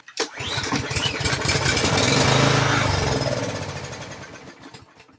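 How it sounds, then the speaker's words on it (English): A small engine cranks and fires on a squirt of starter fluid, revving up into a loud rough run for a few seconds before sputtering, slowing and dying out. "By providing another source of fuel, the engine started and ran just fine until it ran out of that."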